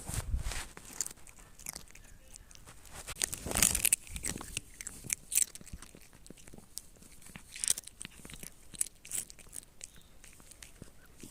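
Crunchy potato chips chewed close up, a run of crisp crackling bites and munching, loudest in one burst early on, with soft crinkling between.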